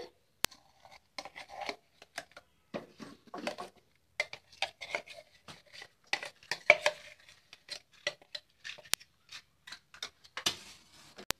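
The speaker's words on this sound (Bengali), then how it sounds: "মাছের পিসগুলো অ্যাড করে দিচ্ছি কড়াতে" Roopchand fish pieces going into a kadai with onion and green chilli paste, heard as a scattered series of light clinks, taps and scrapes of pieces and utensil against the pan, fairly quiet and close, with no talking.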